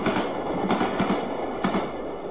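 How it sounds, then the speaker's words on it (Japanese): Rumbling train ride in a Japanese horror video game, a steady carriage drone with rhythmic clickety-clack wheel beats over rails, continuous and close, with no speech. "今私は電車に揺られる浅川村に向かっている。"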